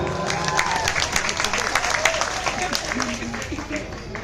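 A crowd at a comedy show during the Dasarathpur Chaitra Poornima Mahotsav 2024 festival claps, with quick scattered hand claps running steadily under a voice talking over a microphone.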